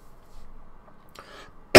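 A person gives a single sharp cough during a tabletop gaming talk show; the short, loud burst comes at the very end, after a few seconds of quiet room noise and soft breathy sounds.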